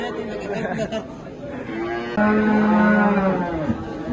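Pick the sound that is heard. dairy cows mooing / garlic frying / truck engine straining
dairy cows mooing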